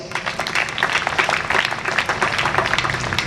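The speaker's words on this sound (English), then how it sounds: "let us give him a resounding applause." A graduation convocation audience gives resounding applause in a large hall, a dense, continuous wash of many hands clapping at a steady level throughout.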